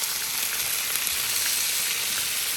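New York strip steaks and potatoes sizzle on a Blackstone griddle with a dense, even crackle close by. The sound holds loud and steady throughout without any speech.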